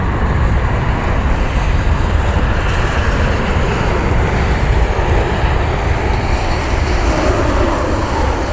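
A United airliner, flight 2243 inbound from Dulles, arrives at rainy Cleveland, its steady broadband jet roar loud and constant throughout with no voices.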